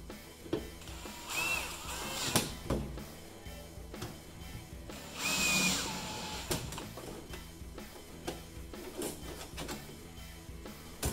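A power drill driving screws back into an over-the-range microwave with vent during installation, two whirring bursts of motor noise, each a second or so long, nearby, amid light handling clatter and no talking.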